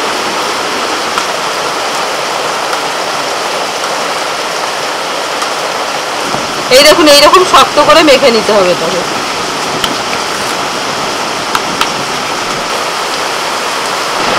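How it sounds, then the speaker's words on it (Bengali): Steady heavy rain pours throughout, a dense broadband hiss, with someone briefly speaking over it near the middle. "একদম ভয়ঙ্কর ভাবে বৃষ্টি এসে গেছে, প্রচুর বৃষ্টি হচ্ছে"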